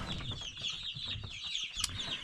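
Day-old black chicks in a brooder peep in soft, high, rapid chirps, several overlapping in a quiet, continuous chatter close by.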